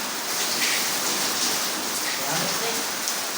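Heavy rain falls on surfaces in Makati as a constant, close, broadband roar, uninterrupted throughout, with only faint traces of voices.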